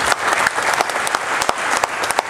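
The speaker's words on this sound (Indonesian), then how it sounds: "Tepuk tangan buat Prudential ya." Audience applause at an Indonesian talk honoring Prudential, a dense burst of many hands clapping close and loud, steady across the whole stretch with scattered sharper claps.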